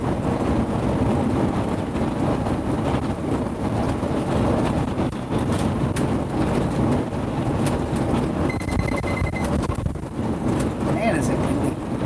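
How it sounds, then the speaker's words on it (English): Strong wind roars and buffets the microphone in a steady, loud rush, with a faint hum of traffic underneath. "Man, is it windy."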